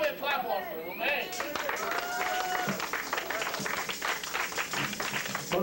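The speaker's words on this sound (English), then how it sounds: "Give Yahweh a clap offering" A church congregation gives a clap offering, breaking into loud, sustained applause mixed with cheering and raised voices.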